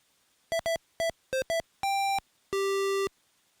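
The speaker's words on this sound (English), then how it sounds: "The sound that you just heard was generated by the Chromasound Pro Direct, that is, the synthesis hardware which is on the device." Bright, buzzy square-wave synth notes from Chromasound Pro Direct synthesis hardware, a quick run of short staccato blips at varying pitches followed by two longer held tones, loud and clean against silence.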